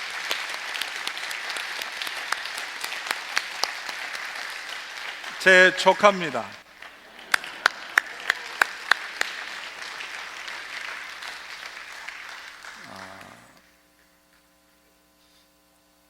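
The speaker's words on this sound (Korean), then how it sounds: "일어나서 박수 한번 쳐주세요." Church congregation applause, steady and moderately loud, with someone speaking briefly over it partway through before the clapping fades out near the end.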